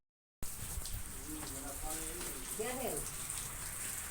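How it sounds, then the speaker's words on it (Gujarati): Light rain falls on the roof of a thatched shelter as a soft, steady patter, with faint voices murmuring underneath. "વરસાદ ધીમે ધીમે ધીમે ધીમે ધીમે ચાલુ છે"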